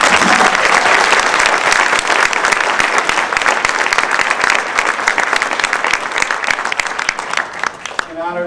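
An audience at an evening event honoring award recipients claps loudly and steadily throughout, a dense sustained round of applause that fades slightly near the end as a voice begins.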